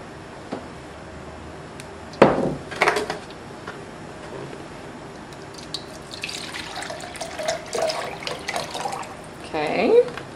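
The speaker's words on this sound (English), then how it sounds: "Then we're going to rinse them with water." Tap water runs in bursts to rinse strained pieces from a novelty zombie drink kit, splashing into a sink between quiet stretches, with people talking over it.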